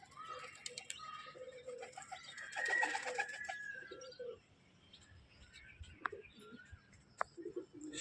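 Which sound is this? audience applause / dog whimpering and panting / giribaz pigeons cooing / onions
giribaz pigeons cooing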